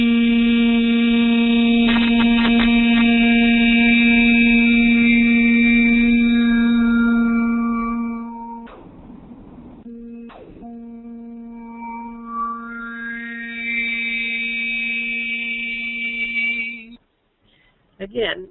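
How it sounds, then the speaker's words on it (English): A single voice sustains a steady sung tone while shifting the vowel from E to oo and back, drawing out overtones that rise and fall above the held note, with a short breathy pause midway and quiet afterward. "start on the vowel E and slowly adjust your lips to create the vowel oo, as in you, and then slowly move back to the vowel E"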